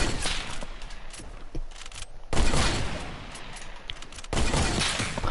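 Video game gunfire crackles in dense bursts of rapid shots, with two loud volleys breaking through quieter background game noise, and no voices over it.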